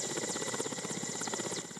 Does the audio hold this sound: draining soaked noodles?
no